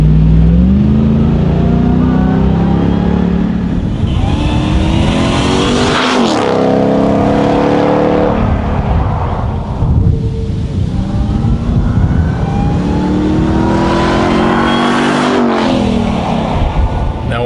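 A supercharged Ram TRX Ignition Edition truck engine, revved hard several times in a row. Each loud rev climbs in pitch with a whine and then drops away, and no voices are heard over it.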